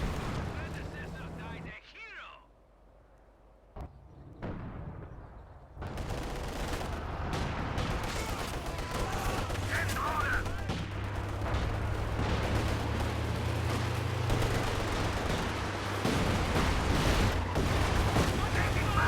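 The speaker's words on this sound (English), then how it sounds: "Decent Katyusha barrage." A Katyusha rocket barrage in the video game Company of Heroes 2 fills a 2v2 battle with dense, continuous rumbling blasts and crackling impacts. It follows a brief quieter stretch and sustains loudly to the end.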